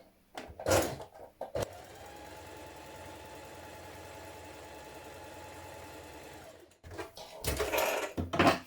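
A sewing machine runs a regular straight stitch on a test piece of fabric, a steady, even mechanical hum lasting several seconds, framed by brief louder handling knocks and rustles before and after.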